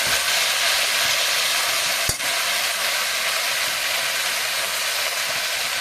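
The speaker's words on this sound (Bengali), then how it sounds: "এবার কড়াইতে একটু তেল দিয়ে সব রকম সবজি কেটেছিলাম সেটা ভাজা করবো।" Mixed vegetables sizzle in hot oil in a wok, producing a loud, steady frying hiss with one sharp clack partway through and no talking.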